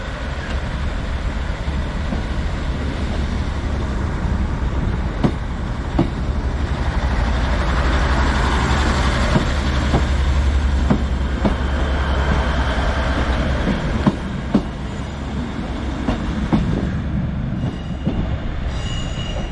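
Class 156 diesel unit 156429 pulling out of Preston station at rush hour, a steady rumble and clatter of wheels on rail with occasional squeals and clicks, fairly loud and continuous.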